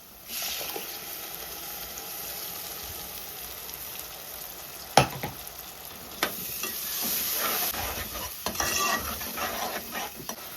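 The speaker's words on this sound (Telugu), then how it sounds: "ఇప్పుడు టమాటా మిక్సీ పట్టుకున్న టమాటా వేసుకుందామండి." Blended tomato sizzles into frying spice masala in a pan, a loud continuous hiss swelling after a sharp clatter, with spoon scrapes and utensil knocks scattered over the frying.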